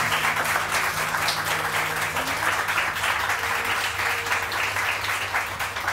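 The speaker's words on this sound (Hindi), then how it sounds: "तस्नीम के लिए बहुत सारी तालियां जी" A studio audience on a Samaa TV morning show applauds a guest designer, a dense, steady roar of clapping that stays loud and even for the whole stretch, with no voices.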